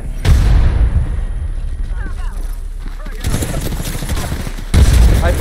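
Bursts of gunfire in the video game Apex Legends crack loudly at the start and again near the end, with a player talking over the quieter middle stretch.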